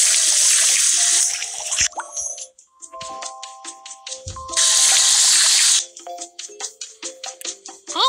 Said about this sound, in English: Put water inside the pot.